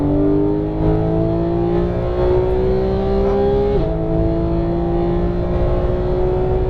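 A Porsche 911 GT3 of the 991.1 generation revs hard at full throttle from the cockpit, its loud, steady engine note climbing in pitch, dropping briefly at an upshift, then rising again, with no talking.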